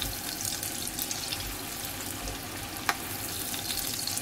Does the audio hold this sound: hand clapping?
no